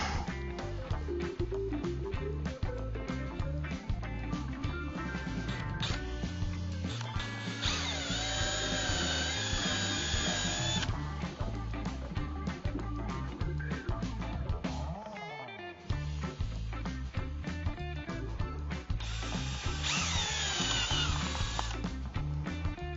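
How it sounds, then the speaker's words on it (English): A power drill bores into a door for a door knob installation, whining steadily and loudly with brief pauses and changes in pitch as the bit cuts through. "And we're going to go ahead and start drilling."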